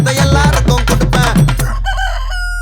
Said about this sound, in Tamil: சேவல் சத்தம் ஸ்பீக்கரை போலக்குது